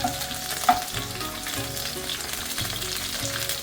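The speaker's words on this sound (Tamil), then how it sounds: "கருவேப்பிலை போட்டு அப்புறம் எக் பிளான்ட் எடுத்து போட்டுக்கலாம்" Eggplant slices frying in hot oil with curry leaves in a kadai for a tawa-style brinjal fry, a steady close sizzle and crackle with a brief spattering pop early on, no voices.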